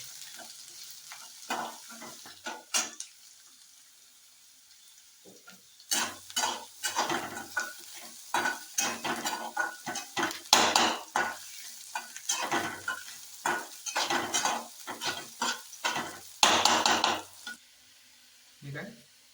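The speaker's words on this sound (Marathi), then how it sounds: "आपण थोडंसं फ्राय करून घेऊया." Onion and chili stir-frying in a pan for masala sweet corn, with faint sizzling and repeated bursts of spatula scraping and clatter against the pan, close and uneven in rhythm.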